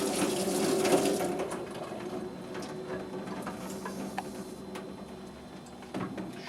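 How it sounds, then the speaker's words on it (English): Water running steadily through a WaterMax H3500 reverse osmosis system after its prolonged contact filter has been flushed, a continuous close hiss and trickle with faint mechanical hum, no voices. "Once the prolonged contact filter is flushed, the water will run pretty consistent and clear."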